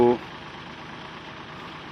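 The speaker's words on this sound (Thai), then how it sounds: "รถไถครับ" A Kubota tractor engine runs at a steady, low rumbling idle, close and continuous, after a brief voice at the very start.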